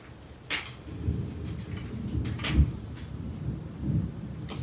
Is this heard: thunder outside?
yes